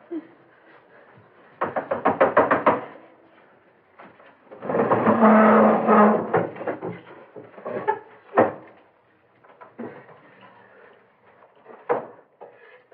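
Knocking on a door in a classic 1962 crime film scene, with bursts of loud raps and thuds in clusters, separated by quieter rustling and movement noises.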